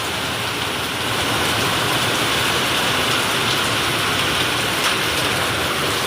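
Heavy rain pours down steadily, a dense, continuous hiss of water drumming on surfaces close by, with no voices.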